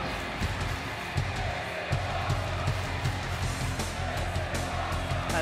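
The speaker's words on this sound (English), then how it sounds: "This is awesome chant from the crowd." Wrestling crowd chanting in an arena after a table-breaking finish, a loud continuous roar of voices with rhythmic clapping-like thumps pulsing underneath, steady for the whole stretch.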